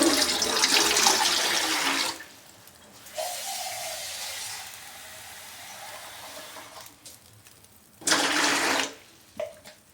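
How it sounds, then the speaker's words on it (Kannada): Water from a tap gushes into an idli steamer pot, a loud close rush that stops, returns more softly, then gives way to quiet before a final strong burst of flow. "ಇಡ್ಲಿ ಪಾತ್ರೆಗೆ ನೀರು ಹಾಕ್ತಾ ಇದ್ದೀನಿ"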